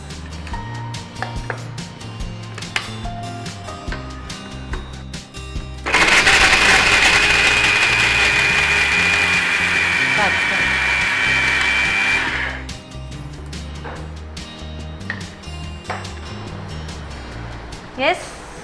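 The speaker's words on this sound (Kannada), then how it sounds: "ಫಸ್ಟಿಗೆ ಇದನ್ನ ಗ್ರೈಂಡ್ ಮಾಡ್ಕೊಂಡು ಆಮೇಲೆ ಬೆಲ್ಲ ಹಾಕಿ ಮಿಕ್ಸಿ ಮಾಡಿ" A kitchen mixer grinder whirs loudly for about six seconds, grinding ingredients with jaggery, a high motor whine between stretches of talking before and after.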